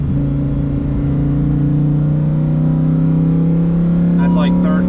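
A 2021 Lamborghini Huracan V10 with an FI exhaust holds a loud, steady, rumbling engine drone whose pitch slowly climbs, heard up close.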